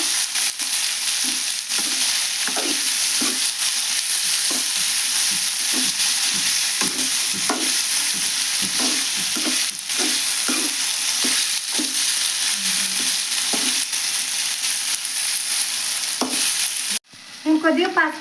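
Bitter gourd pieces frying with ginger paste in a pan, a steady close sizzle broken by repeated scraping stirs of a spatula, loud and voice-free until a brief clatter near the end.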